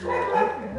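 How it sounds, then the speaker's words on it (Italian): A dog barks and yips once or twice at close range in a home where cats are fighting, with a steady background hum throughout. "Ecco il cane, abbiamo pure il cane qua"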